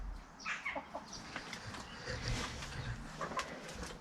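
A backyard flock of hens clucks and murmurs softly in scattered short calls, faint and somewhat distant, with no talking.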